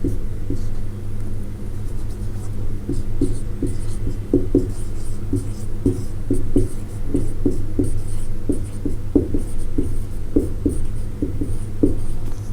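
A maths proof being written by hand, soft scratchy pen strokes in short irregular bursts over a constant low rumbling hum, no talking heard.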